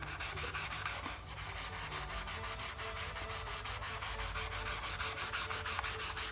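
Rhythmic back-and-forth scrubbing of a dirty mouse pad with a soft sponge and dish soap, steady rasping strokes in even repetition, close up and continuous with no speech.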